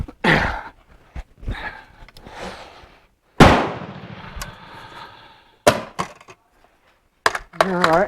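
A Bren MK2 gun fires single loud sharp reports at irregular intervals, the strongest followed by a long ringing decay, with a few quieter knocks and handling sounds in between.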